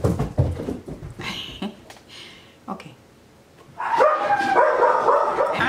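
Dogs bark in a few short bursts early on, mixed with a person talking, before a louder, busier stretch of sound near the end.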